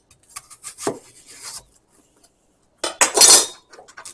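A kitchen knife slicing an onion in half and then into quarters on a cutting board: two short bursts of clicking, scraping cuts separated by a quiet pause, close and clear.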